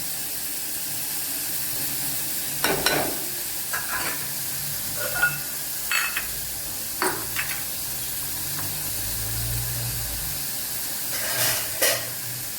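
Ingredients for Bombay chutney sauté in a pan with a soft, steady sizzle, broken by several short scraping stirs of a spoon against the pan, fairly close and moderately quiet.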